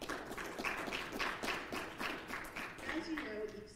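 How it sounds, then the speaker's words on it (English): An audience at a faculty institute gathering claps steadily for the presenters, a continuous patter of hands blended with room noise and talk throughout. "You can clap if you're at home or clap if you're in person"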